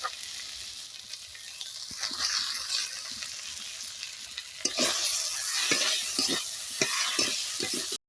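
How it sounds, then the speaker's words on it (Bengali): Fried potato and eggplant pieces tumble into a hot pan of Bengali fish curry base, bursting into loud sizzling with scraping stir strokes and clattering thumps throughout, steady and close. "এবার আমি দিয়ে দেবো ভেজে রাখা আলু বেগুনগুলো"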